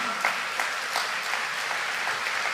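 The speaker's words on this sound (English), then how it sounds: "I'm clearly noticing who is clapping and who is not" Audience clapping at a World Population Day talk, continuous dense applause from many hands with a few sharper claps standing out, steady and moderately loud throughout.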